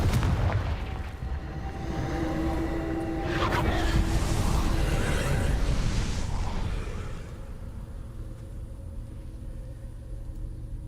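The Confringo fire spell in Hogwarts Legacy bursts with a deep, rumbling explosive boom that swells and then slowly fades into a low roar.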